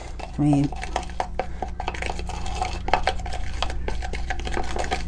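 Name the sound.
mixing Multani Mitti fuller's earth clay paste in a bowl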